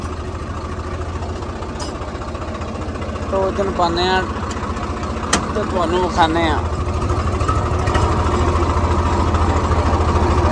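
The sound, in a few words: Swaraj 855 tractor engine pulling a loaded trolley uphill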